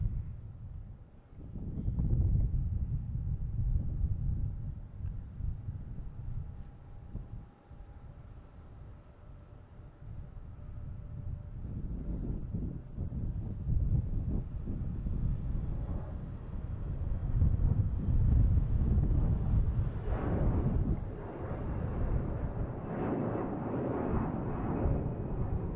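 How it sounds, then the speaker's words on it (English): Gusty wind buffeting the microphone outdoors at Boston Logan Airport, a loud continuous low rumble that rises and falls in strength over the whole stretch, with no voices. "A little breezy out here now."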